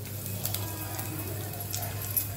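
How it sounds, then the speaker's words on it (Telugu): Asafoetida (hing) hits hot oil with mustard seeds already fried in it, giving a soft, steady sizzle with faint crackling pops over a low hum while sambar is being made. "ఇంగువ వేస్తున్నాను."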